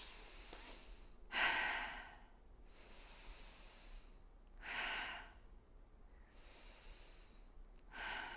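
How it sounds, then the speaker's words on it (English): A person standing during a corrective breathing exercise takes slow, deep breaths, with several soft, airy inhale and exhale rushes repeating at a steady pace, close and quiet, with no talking. "We're going to stand and breathe."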